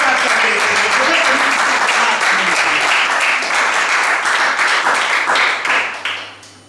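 A church congregation breaks into loud, sustained applause and acclaim for Jesus during a sermon, dense clapping mixed with voices throughout before fading away at the end.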